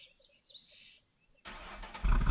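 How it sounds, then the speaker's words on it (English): After birdsong and quiet, a van's engine suddenly starts and revs up, loud and close, its roar swelling toward the end. "You get into the van and rev the engine to life."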